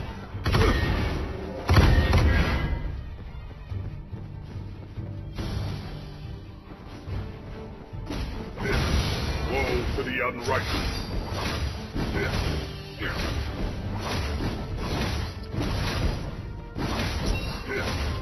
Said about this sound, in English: An enemy turret has been destroyed.